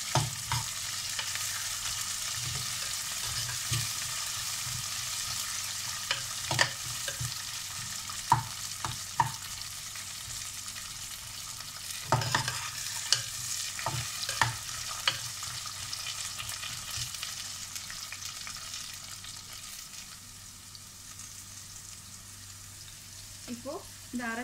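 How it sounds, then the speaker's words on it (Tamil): Potatoes and peas sauté in oil in a pan while making mint pulao, with a steady close sizzle throughout and frequent scraping knocks from stirring, and no one talking. "இந்த உருளைக்கிழங்கு இந்த பட்டாணி ரெண்டுத்தையும் போட்டு கொஞ்சம் வதங்கட்டும்."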